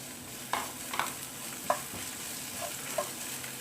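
Onion frying in a pan for spicy vegetable pasta makes a soft, low sizzle, punctuated by four or five sharp taps and scrapes of a stirring spoon against the pan, with no voices.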